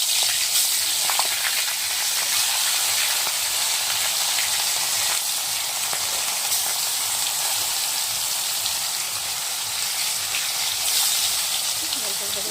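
Fresh rohu fish fries in hot oil in a pan, a dense continuous sizzle that stays loud and steady throughout, with faint rhythmic bubbling underneath and no clear voices.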